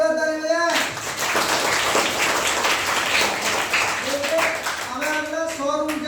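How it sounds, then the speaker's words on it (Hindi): A classroom breaks into loud clapping during a lesson on fuels, a dense burst of applause that fills the middle of the clip, with a voice speaking at the start and again near the end. "एक बार जोरदार ताली बजाएं।"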